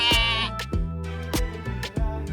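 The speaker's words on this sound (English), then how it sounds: "Sheep, gives wool." A sheep bleats several times in quick succession, loud and close, each call a wavering, nasal cry, with no other sound around it.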